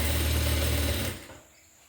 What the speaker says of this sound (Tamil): இந்த தையல் வந்து நேராக வரட்டும்.